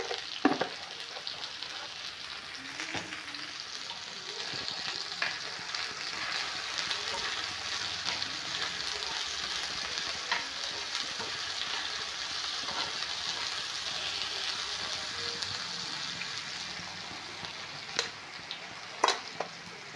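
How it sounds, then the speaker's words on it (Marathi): Tomato and onion cook with salt in a pan, giving a steady, even sizzle across the whole stretch, with a few sharper pops and scrapes near the end and no talk. "टमाटर कांद्यावर मीठ टाकून घेतलं तर टमाटर कांदा छान असा शिजून जातो"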